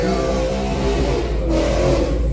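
A supercharged LSA drag car launches on its back tire at a run-what-you-brung night at a drag strip, giving a loud, sustained engine roar that swells steadily throughout with no talk over it.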